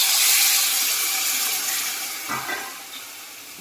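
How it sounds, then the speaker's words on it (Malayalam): Two glasses of water poured into a pan of onions and coriander make a loud rushing splash that slowly fades, with a brief clink near the end. "ഒരു 2 ഗ്ലാസ് വെള്ളം ഇതിലേക്ക് ഒഴിച്ചു കൊടുക്കാം."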